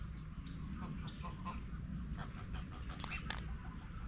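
Ducks quack and honk repeatedly in a noisy cluster at a rural farmyard, calls overlapping against a constant low rumble of background noise.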